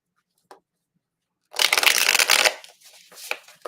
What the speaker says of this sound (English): Let's pull a few more cards and see what other messages we have for you.